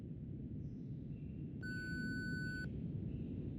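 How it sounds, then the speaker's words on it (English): A voicemail beep in a video game, a single clean electronic tone lasting about one second over low background hum. "Please leave a message after the beep."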